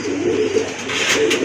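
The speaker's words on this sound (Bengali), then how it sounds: "একবার ফুল কলসি গলা কবুতর।" A full kalsi-necked pigeon for sale coos in short, throaty rolls, close and clear with little else behind it.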